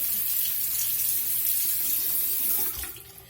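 Water runs from a bathroom sink tap in a steady, close hiss that stays level before tapering off near the end.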